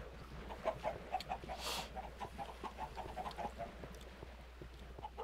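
Chickens clucking inside a video-game egg farm building, a steady layered flock chatter of repeated short clucks and calls at moderate distance under a low constant hum, with no talk.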